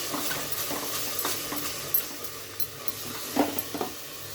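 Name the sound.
frying tomato paste with onion for chole curry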